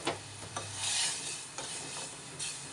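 Chopped spinach goes into a hot garlic tempering in a pan and is stirred for lasuni palak, giving soft scraping and rustling strokes with a faint sizzle, quiet and close.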